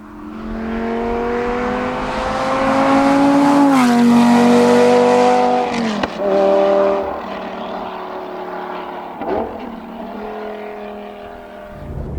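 Blue Lamborghini Gallardo engine revving and accelerating in a drive-by, a loud continuous roar that swells and climbs in pitch around the middle, then shifts down with a brief dip and settles into a steady fading drone.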